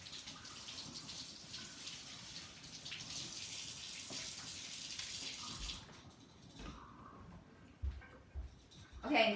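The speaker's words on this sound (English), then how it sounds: "I'm gonna rinse this real quick." A turnip rinsed under a running kitchen tap, with a soft steady water flow for several seconds that cuts off, followed by a few quiet knocks and handling sounds.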